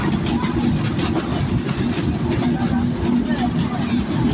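Local shuttle train from Goalundo Ghat toward Poradah Junction waiting at Rajbari railway station, hauled by an EMD locomotive, giving a steady low rumble and engine hum with faint clatter, under talking and crowd babble.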